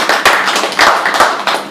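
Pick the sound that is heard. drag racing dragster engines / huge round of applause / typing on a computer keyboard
huge round of applause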